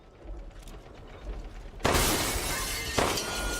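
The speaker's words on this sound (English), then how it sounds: "Always shoot the windows out" Window glass shatters under gunfire in a Resident Evil game, a sudden loud burst of breaking glass followed a second later by a second crash over a faint ambient hum.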